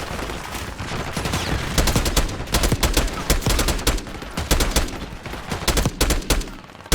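Heavy gunfire from a shootout with snipers on a roof rattles on continuously, with sharp repeated shots and overlapping volleys close and loud.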